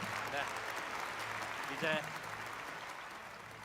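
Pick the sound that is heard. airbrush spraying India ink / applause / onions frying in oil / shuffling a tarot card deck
applause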